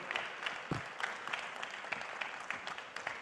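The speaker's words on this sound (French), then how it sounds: "Applaudissons Monsieur le Président de la République du Bénin, s'il vous plaît, Monsieur Talon." An audience at a formal event applauds the President of Benin, clapping steadily with a crisp patter of many hands heard from a moderate distance.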